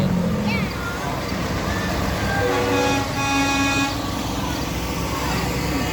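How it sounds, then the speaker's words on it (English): A truck horn honks at the Waupun truck show, a sustained harmonic blast lasting about a second amid steady crowd and traffic background, with voices nearby. "Get a real horn."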